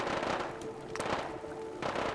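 Gunfire in the video game Fallout 4, several sharp shots spaced apart over a busy background.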